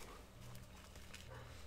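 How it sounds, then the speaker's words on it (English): Two household dogs, a neighbor's dog and another answering it, bark faintly in the distance indoors, a few soft muffled yelps under low room noise, with no talking. "next door neighbor's dog starting to bark, so my dog is starting to bark"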